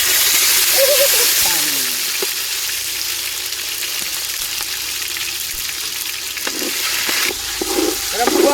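Tomatoes tipped into hot oil with whole spices (cinnamon, cloves, chili, bay leaf) for Gujarati dal fry give a steady, close sizzle that runs the whole clip. A voice speaks briefly over the frying.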